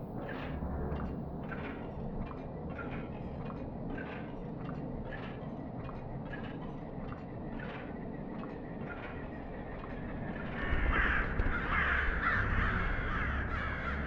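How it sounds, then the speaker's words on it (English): Crows caw in a horror video game, a run of roughly a dozen harsh calls at an even pace over a low rumbling background that swells louder near the end. "Were those birds?"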